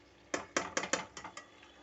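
A utensil stirring sauces frying in a pan gives six quick metallic clinks and scrapes against the pan in an uneven rhythm, close and clear, with no talk.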